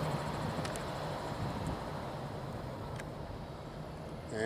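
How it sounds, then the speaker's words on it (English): Steady, distant road traffic rumbles across a bridge in an outdoor park setting, a continuous wash of tyre and engine noise with faint wind and no distinct passes. "you can hear the traffic over there going across the bridge"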